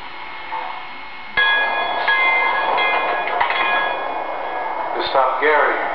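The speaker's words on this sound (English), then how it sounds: "Now arriving on track number 4 from New York" An HO scale MTH Mohawk model train pulls in with a sudden rise of rumbling and squealing tones, steady mechanical noise throughout and a chime-like tone near the end.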